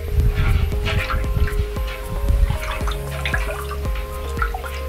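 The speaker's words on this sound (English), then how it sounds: "And then the apple cider next." Apple cider poured into a harvest punch: a steady, close splashing and trickling stream of liquid with drips, continuous for several seconds with a faint background hum and no talking.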